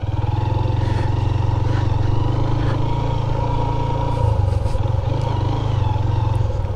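A motorcycle idles nearby at a resort in Bagrot Valley, Gilgit, its engine putting out a steady low throbbing chug with light clatter, close and continuous over several seconds.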